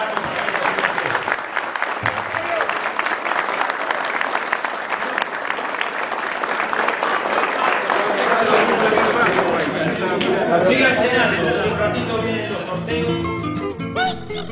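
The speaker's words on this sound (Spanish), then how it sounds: "quiero este fuerte aplauso es para todos ustedes que están aquí" A crowd at a fishermen's festival applauds strongly for several seconds, and the clapping then thins as music and crowd chatter take over toward the end.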